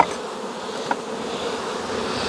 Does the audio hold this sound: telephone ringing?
no